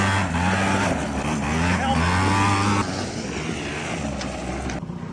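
A Bombardier DS90 with its governor removed revs loudly and close by. The engine holds a strong buzzing drone that drops to a lower, steadier pitch about halfway through.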